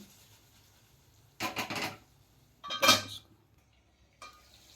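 A spoon stirs tomatoes in a pan for a fish curry, making two short bursts of clattering scrapes with a faint tap afterward in a quiet kitchen.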